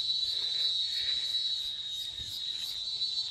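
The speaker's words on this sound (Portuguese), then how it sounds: "Olha, o som das cigarras como fundo musical natural" Cicadas beside a river sing in a steady, shrill high-pitched drone, pulsing slightly, with no voices.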